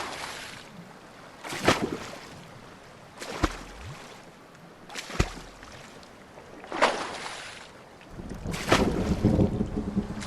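Gusty storm wind in the video game The Forest rushing past in repeated surges, with a low, steady roar underneath and a stronger, sustained blast near the end.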